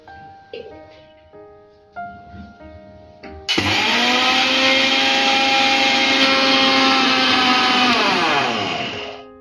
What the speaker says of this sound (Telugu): మనకి మిక్సీ జార్లోకి యాడ్ చేసుకున్న తర్వాత ఒకసారి దండ పెట్టుకొని స్టార్ట్ చేస్తానండి